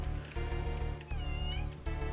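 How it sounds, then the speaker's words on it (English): A cat meows in a long, drawn-out, wavering call over a loud, steady droning background, close by and without talk. "Kitty."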